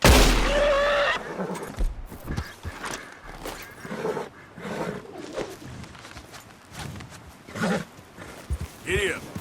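Horse in Red Dead Redemption 2 gameplay lets out a loud whinny at the start, then hooves clip-clop through the rest, with a voice speaking over the hoofbeats.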